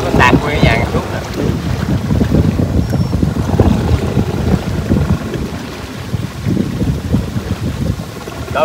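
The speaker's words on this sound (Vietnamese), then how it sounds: "Gió lớn à. Gió quá." Strong wind blows outdoors through an old forest, a loud, continuous buffeting roar that rumbles across the microphone for the whole stretch.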